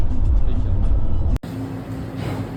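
A van rolls along an Australian east-coast road heard from inside, a loud low engine and road rumble that cuts briefly, then resumes more softly, with people talking over it.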